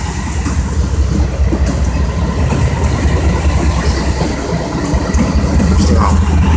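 A Norfolk Southern freight train led by seven locomotives rolls past close by on a line from Muscogee County, Georgia toward Russell County, Alabama, a loud continuous rumble with clattering wheels and engine drone throughout.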